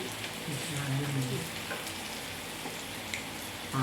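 Pork cooks on a Korean-style grill pan, giving off a faint, steady bubbling sizzle with light crackles throughout.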